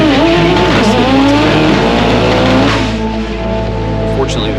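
A race car engine runs loud and steady through a qualifier round at a World Cup finals event, its sustained drone holding the whole stretch with a slight dip late on.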